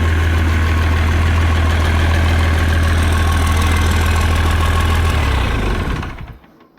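A Perkins Phaser Turbo diesel engine fitted in an M3 Stuart tank idles loudly and evenly with a deep throbbing rumble, then winds down and shuts off near the end.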